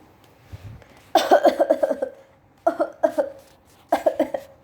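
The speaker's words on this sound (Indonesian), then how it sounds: "Bangau dan kalkun mulai terbatuk-batuk." Three bursts of harsh, repeated coughing, each a rapid run of several coughs, fairly close and loud, with short pauses between the fits.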